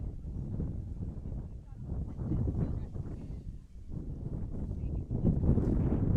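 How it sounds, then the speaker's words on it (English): Wind gusting across an outdoor soccer field during a boys' high school game, a steady low rumbling buffet on the microphone that swells and dips in surges, with faint voices mixed in. "Yep, more wind gusting through"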